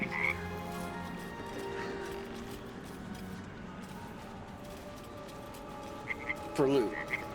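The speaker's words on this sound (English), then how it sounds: "So we are following a frog around." A frog in the Baldur's Gate 3 video game croaks repeatedly in short throaty calls over a soft game ambience, with a louder burst of croaking toward the end.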